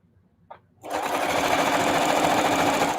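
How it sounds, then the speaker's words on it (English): A sewing machine stitching a holiday wall hanging starts after a brief quiet moment with a small click, then runs in a steady, fast, close whirring hum to the end. "I'm finding lines of gold to sew along without having to stop and start"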